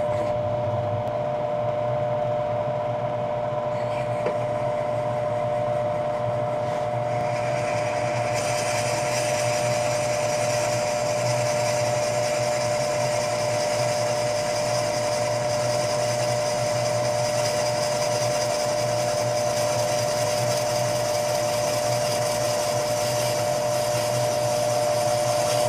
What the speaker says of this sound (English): so I turned on the exhaust fan